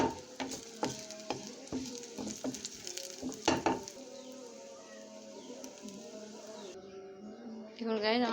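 Black cumin and three dried chillies sizzle in hot oil as a tempering for thin masoor lentil dal, with close clattering stirs at first, then a steady hiss that briefly swells near the end.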